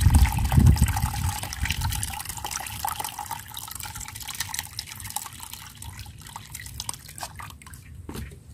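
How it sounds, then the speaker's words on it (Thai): Boiled and cooled eucalyptus leaf water strained into a container, a steady trickle and splash of pouring liquid with dripping that eases off to a thin patter. "กรองเอาแต่น้ำใสๆนะคะ เมื่อเราต้มแล้วนะคะแล้วเย็นแล้วนะคะเราก็กรองเลยค่ะ"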